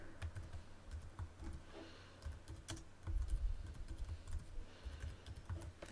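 Typing a title on a computer keyboard while building a PowerPoint slide, a quiet, steady run of close key clicks over faint low room hum.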